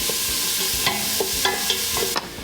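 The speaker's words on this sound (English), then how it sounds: "We're gonna stir, and we want to cook them until they are nice and light brown." Onions stirred in a hot pan as they sear, with a steady sizzle underneath and several distinct scraping strokes of a utensil against the pan, close and fairly loud.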